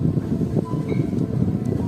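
Steady broadband whoosh of a rechargeable handheld portable fan with five speed settings, a constant low rushing airflow close by with no voices.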